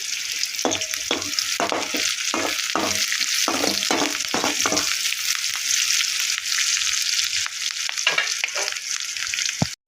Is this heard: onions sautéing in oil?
yes